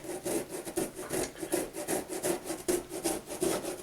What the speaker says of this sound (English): Now I'm just going to grate this.